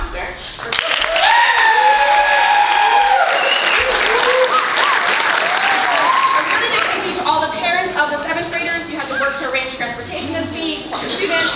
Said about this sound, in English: Make sure to give her a huge thank you,